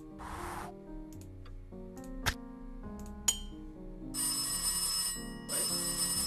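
An old-style telephone bell rings in the Cube Escape Birthday video game, sounding over soft layered game music with a couple of sharp clinks along the way, and no one speaks.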